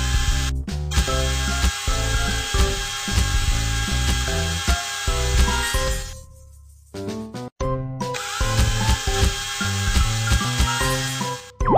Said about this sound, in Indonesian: Bor lubang hitam terlebih dulu.